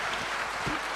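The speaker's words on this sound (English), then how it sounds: "Big round of applause for Sifu Sham." An audience at a business seminar applauds steadily, a dense wash of clapping with no pauses.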